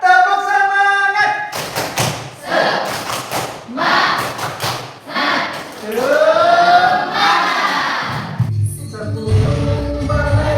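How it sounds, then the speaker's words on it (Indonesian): Students in a classroom perform tepuk semangat, a spirit clap. Groups of sharp, rhythmic hand claps alternate with loud group chanting close by, and a teacher's voice is heard briefly at the start. "Coba tepuk semangat."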